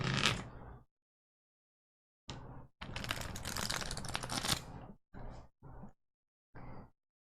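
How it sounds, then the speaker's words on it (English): A thick 99-card pile of Magic: The Gathering cards is shuffled by hand in close, crisp bursts: a short riffle, a longer rattling shuffle of about two seconds, then several quick follow-up flicks. "Too many cards to shuffle properly."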